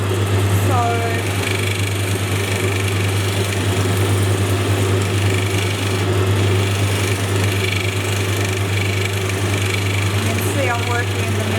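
An opal is polished with hot chalk on a gentle spinning wheel: a steady, loud motorized hum and whir runs throughout with faint grinding texture, and a person talks over it.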